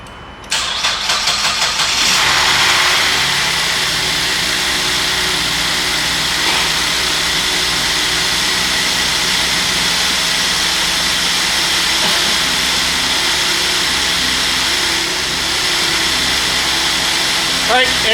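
A GMC Acadia engine with a shorted, failed alternator cranks on a jump start and catches, then settles into a steady idle that runs on, close and loud.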